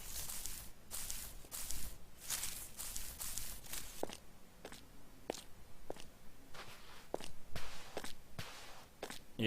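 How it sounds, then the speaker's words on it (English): Footsteps crunching over grass and bushes on terrain in a CopperCube 6 game scene, a steady series of crisp, rustling steps repeating roughly every half second, close and fairly loud with no talk. "So now we've got more grass sounds mixed in with the bushes sound"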